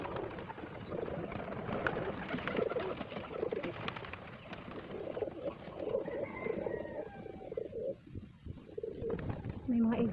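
Pigeons coo in soft, repeated low calls around a nest with eggs, close by and fairly steady, with a person talking quietly over them.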